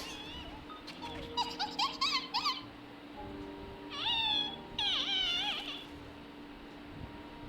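Numby, a small cat-like creature in the game Honkai: Star Rail, gives several high, bending meows in short bursts, first a quick cluster and then two longer calls, fairly close over a quiet game background with no talk.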